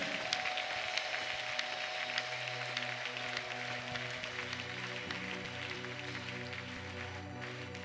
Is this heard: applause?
yes